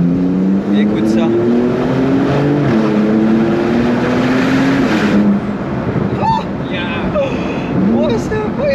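A car engine revs hard through a modified centre-exit exhaust, loud and close, its tone climbing steadily for several seconds before dropping, then a few shorter blips follow.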